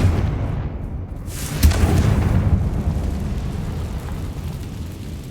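The Confringo fire spell in Hogwarts Legacy lands with a single sharp explosive blast, followed by a deep, rolling rumble that slowly fades.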